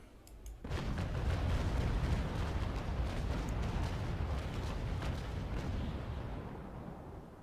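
Naval Action ship cannons fire in a sudden loud broadside at sea, a dense sustained roar of rolling booms that slowly fades over several seconds with no talking.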